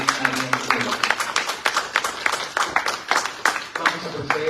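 A live audience claps for the presenters at a bicentennial panel discussion on tombs and epitaphs of heroes and heroines, with dense, irregular clapping throughout, while some voices murmur underneath.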